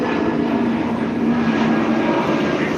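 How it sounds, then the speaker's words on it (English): Steady roar of an airplane flying over near an airport, loud and continuous with a low drone throughout, no voices. "So that noise you hear is airplane."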